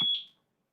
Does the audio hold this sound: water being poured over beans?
no